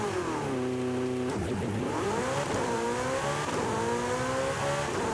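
A tuned car in Forza Horizon 5 accelerates hard, its engine note climbing through the revs with several gear changes, loud and steady throughout with no talking.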